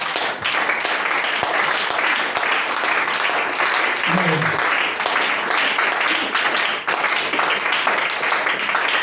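A church congregation applauds in praise, sustained loud clapping filling the space for several seconds with a brief low voice briefly cutting in midway.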